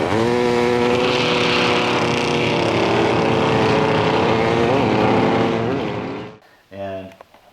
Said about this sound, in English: I just wanted to see if I could actually launch this thing in third gear from stop